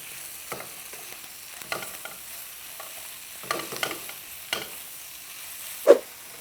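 Squid stir-fries with freshly added vegetables in a hot pan. A soft, faint sizzle runs under scattered scraping and stirring strokes, ending with one sharper clank near the end.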